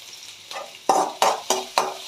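Green chillies and ginger are stir-fried in hot oil, sizzling loudly and up close, with rhythmic scraping stirs about every quarter second.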